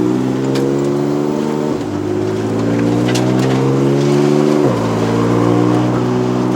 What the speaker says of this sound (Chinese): 牙箱是一具 PDK 的 7-speed dual clutch 双离合的牙箱，它的声音哦真的是 非常直接，非常好听